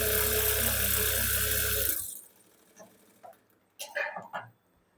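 A sewing machine stitches a double seam on a katori blouse at a half-inch margin. It makes a steady, close whirring for about two seconds, then stops, leaving faint scattered clicks and handling sounds.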